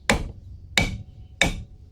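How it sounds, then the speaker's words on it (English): Three sharp metallic hammer taps on a backhoe tie rod, evenly spaced about two-thirds of a second apart, close and clear with short ringing decay. "I gotta kind of hammer this on gently"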